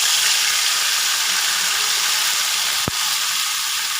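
Spice paste and spiced water sizzle steadily in a hot pan for a Bengali mourola fish curry, a loud, continuous broadband hiss with one brief sharp click near the end.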